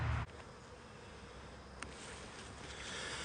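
Honey bees buzz faintly at a hive in a soft, steady drone, with a brief knock near the start and a small tap partway through.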